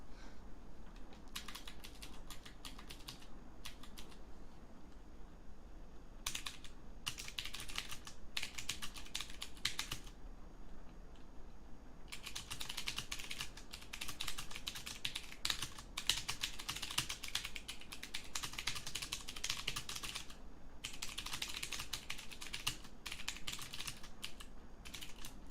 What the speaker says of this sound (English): Am I being that violent with my keyboard?